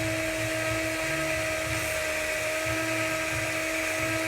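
A Britânia electric fan with a squeaking fault runs loud and close, giving off a continuous high-pitched whine with steady tonal squeal and a faint low motor rumble underneath.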